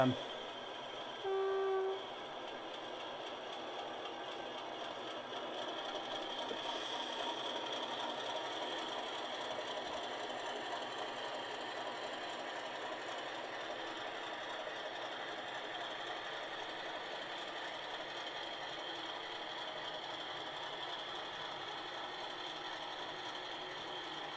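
A model railway Class 50 locomotive with a powerful sound decoder, running toward a tight shed: a steady droning engine hum with a brief horn-like tone early on, continuing evenly throughout.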